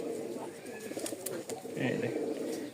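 A pair of Rajshahi Giribaz high-flying pigeons coo in low, rolling murmurs close by, with someone talking over them.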